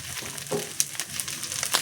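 Spice paste with turmeric and salt sizzles in hot oil for a spicy crab curry, a close, steady frying crackle with occasional sharp spatters and stirring scrapes, no talk.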